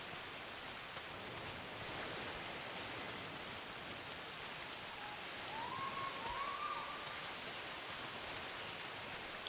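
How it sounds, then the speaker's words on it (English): Sudden rain downpour in the survival game Bootstrap Island, a soft steady hiss of rainfall with faint bird calls over it, even and continuous for about nine seconds with no voices. "Being caught in the sudden downpour was not part of your plans."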